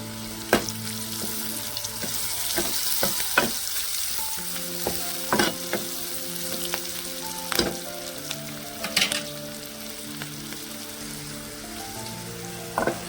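Curry leaves and ginger-garlic paste fry in hot oil for a chickpea-bean curry, giving a steady close sizzle broken by sharp pops and crackles, with occasional knocks of stirring and a low tonal hum underneath.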